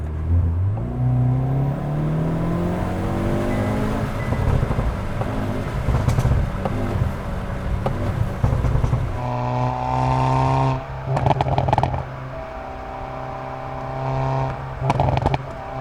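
A 2022 Hyundai Veloster N with DCT heard from outside, engine revving up loudly then dropping off, followed by bursts of sharp snappy exhaust pops and crackles near the end.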